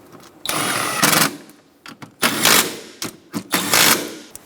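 A tool snugs 8mm bolts into the front window motor of a 2007-2012 Nissan Altima, giving several loud, close bursts of mechanical whirring and clicking separated by short pauses.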